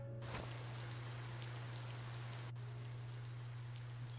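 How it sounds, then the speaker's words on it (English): Soft, steady rain in the video game Cattails: Wildwood Story patters evenly throughout, fairly faint, with a low constant hum beneath it. "It's raining!"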